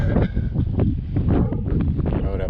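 Wind gusts across a lake shore at Lake Oroville's West Branch during spring bank fishing, buffeting the microphone in a close, continuous rumble with rustling bursts throughout.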